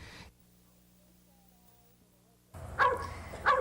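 An orphaned puppy gives a couple of sharp, loud yips and barks close by, following a stretch of quiet low hum.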